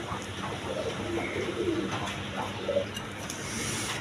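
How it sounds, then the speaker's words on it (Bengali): Pigeons of quality colored breeds kept in pairs coo softly and intermittently in a steady background, with a few low warbling calls standing out near the middle. "দেখেন দোনো জোড়া খুব কোয়ালিটি সম্পন্ন কবুতর"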